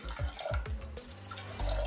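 Water poured into a pot of washed toor dal for sambar, a few short splashing glugs followed by a steadier running pour, close and alone.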